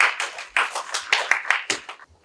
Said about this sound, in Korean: 저희 모두 박수로 맞이하도록 하겠습니다.